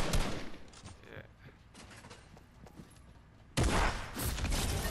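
Fortnite gunfire crackles in rapid bursts and scattered shots, loud at the start, sparser in the middle, then a dense close volley near the end.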